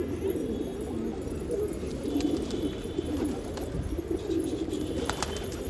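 Pigeons coo in low, throaty murmurs, several birds overlapping steadily, with faint chirps and light background noise.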